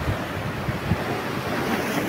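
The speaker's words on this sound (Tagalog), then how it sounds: "Dito na tayo sa tapat ng alon." Ocean surf rolls and breaks on the shore at Baler, Aurora, a continuous close wash of waves under heavy wind buffeting on the microphone.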